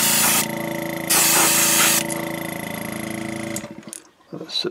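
Steady loud hiss of spray paint coating a fishing lure, with an orange tone tapered onto the belly, running continuously with a brief louder burst before cutting off into near silence.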